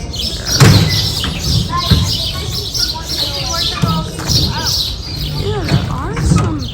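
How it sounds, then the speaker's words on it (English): Small birds chirp near a bridge, with quick scattered tweets and short rising calls spread through the moment. A steady background noise and people talking sit underneath. "there are some birds."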